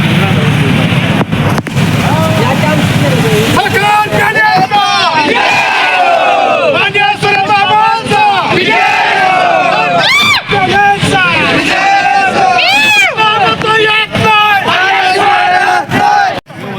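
Party workers of a cooperative panel cheer loudly at an election victory celebration outdoors in Karad, a dense crowd roaring and shouting in waves with whistles and excited voices throughout.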